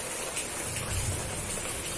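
Heavy rain pours steadily and loudly, a dense continuous hiss with a deeper low rumble swelling briefly in the middle.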